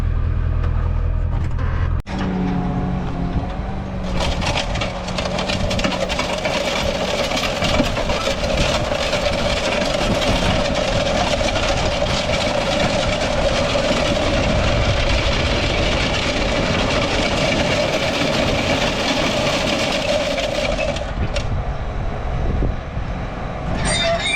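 A large tractor engine starts up and then runs steadily at idle, a loud continuous rumble with a constant hum throughout.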